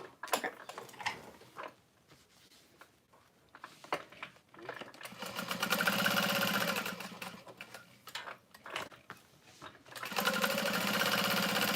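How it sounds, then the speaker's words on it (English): A sewing machine bastes foam for a tote bag in two loud, fast-stitching runs close up. Quieter clicks and handling noises come before and between the runs. "Okay, I'm gonna baste my foam."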